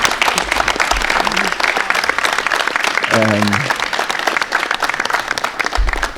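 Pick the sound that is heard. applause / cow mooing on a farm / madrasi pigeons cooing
applause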